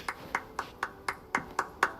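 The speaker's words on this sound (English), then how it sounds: "Little Bob Cratchit in his cell beyond involuntarily applauded." A lone person applauds in a Christmas Carol office scene, eight sharp, evenly spaced claps over two seconds, close and fairly quiet with no talk.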